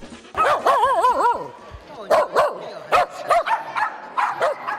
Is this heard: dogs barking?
yes